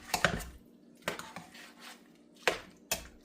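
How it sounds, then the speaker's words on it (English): Hamburger meat being broken up in a pan, with a few sharp scraping chops at a steady interval, close and fairly quiet, no voices. "This mincing of the hamburger meat just did it for me."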